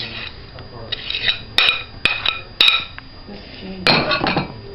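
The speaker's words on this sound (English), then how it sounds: "just kind of scooping it all off the sides" A utensil scrapes banana bread batter off the sides of a bowl, giving irregular clinks and sharp taps against the bowl between softer scraping strokes. It is close and moderately loud, and no one speaks.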